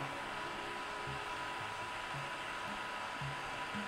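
A Sky-Watcher Star Adventurer GTI telescope mount motor slews with a steady whir at moderate level, a broad mechanical hum with faint low thumps scattered through it and no voices.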